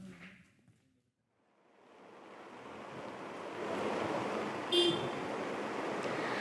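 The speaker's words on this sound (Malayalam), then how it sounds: "അതിശക്തമായ മഴ ഈ ദുരന്തമുണ്ടായ സ്ഥലത്ത് ഇപ്പോഴും പെയ്യുന്നതായി മനസ്സിലാക്കാൻ സാധിക്കുന്നുണ്ട്" Heavy rain falls at the Wayanad landslide site as a broad, steady roar. After a brief quiet moment at the start it swells in and holds, with a faint short tone near the end.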